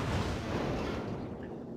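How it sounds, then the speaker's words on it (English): Cruiser gunfire in the World of Warships naval battle game rolls on as a dense, booming rumble of overlapping shots, loud and sustained throughout the short stretch with no talk. "I'm getting peppered by cruiser gunfire"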